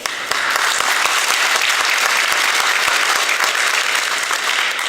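A crowd applauds at an expansion ribbon cutting, a dense, steady clapping close by that runs the whole time with no voices over it.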